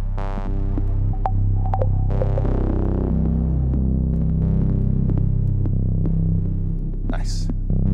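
A Euterpe Vertice filter bank signal with a touch of reverb plays as a thick, droning, throbbing synth tone, with low sustained harmonics, scattered sharp transients and a bright noisy swell near the end.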